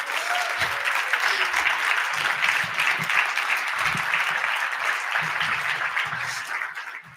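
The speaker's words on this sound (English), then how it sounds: "Let's give her another round of applause." An audience claps for a speaker at a community gathering, sustained, even applause at moderate loudness throughout, with faint scattered voices and a brief tone beneath before it fades at the close.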